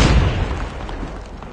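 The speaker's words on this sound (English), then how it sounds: "Ah! Explosion!" An explosion in the video game Call of Duty: a loud, broad boom at the start that fades into a rumbling tail over about a second and a half, with no talk.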